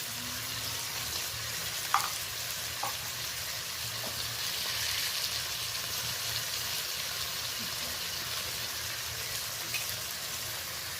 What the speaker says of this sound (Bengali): ছোট চামচের 1 চামচ আমি 5 ফোড়ন দিয়ে দিলাম।